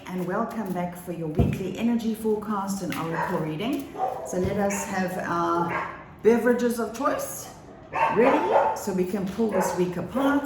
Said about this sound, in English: Please excuse my dogs are barking.